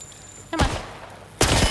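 Enemy gunfire in a first-person video game, heard as two loud bursts of shooting about a second apart, each ringing out briefly over a steady ambient hum.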